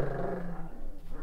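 Rottweiler puppies give a short, low growl lasting about a second, close and fairly quiet, with no talking.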